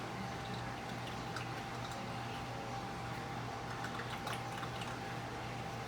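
Continuous trickling and gurgling of water draining from a Lifetime 55-quart cooler, steady and close, with a low hum underneath and no talking.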